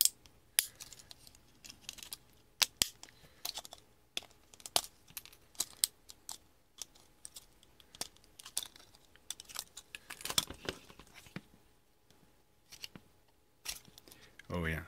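A plastic bag pulled from a dumpster is torn open at close range, producing sharp ripping, crinkling and rustling bursts in an irregular rhythm.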